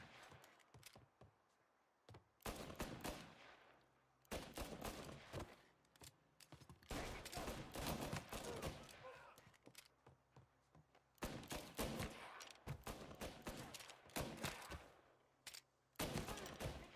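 Rapid volleys of gunfire in a Mafia: Definitive Edition shootout, with dense bursts of shots and short pauses between, loud and continuous over seventeen seconds and almost no talk.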